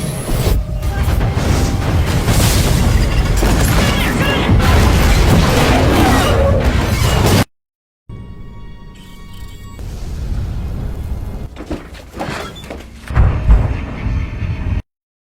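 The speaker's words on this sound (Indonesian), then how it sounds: "Akibat dari ledakan gas tersebut" A loud, rumbling gas explosion with heavy low-end booming, followed by a brief silence and then lingering rumble and scattered bursts.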